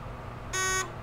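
A Simplex 4002 fire alarm panel gives a single short electronic beep after being reset, clear and steady against low background hum, with no talking.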